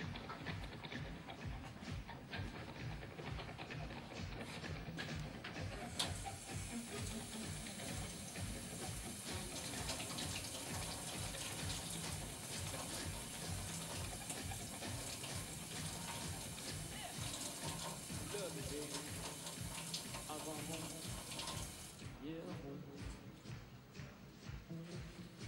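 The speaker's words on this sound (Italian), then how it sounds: "immergendo il tappo nell'acqua" Running and splashing water fills the whole stretch as a glued cork is cooled by dipping it in water, a steady, close hiss and gurgle with small shuffling bumps.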